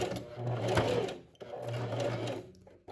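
A domestic sewing machine stitches a straight joining seam along the side of a tube dress, a steady close whirring hum in two runs with a brief pause between.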